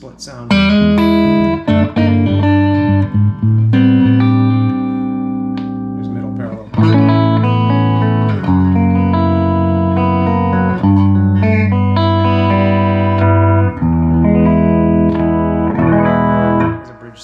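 Coil-split clean electric guitar through a Lewis Electric Columbia reverb amp voiced like a blackface Princeton, a bright, chiming chordal and melodic passage with ringing sustained notes and reverb tails, close and steady.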